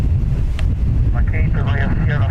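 Strong gusting wind at Dublin Airport buffets the microphone in a low, rumbling roar that stays loud and unbroken, with faint aircraft or engine tones rising and falling above it.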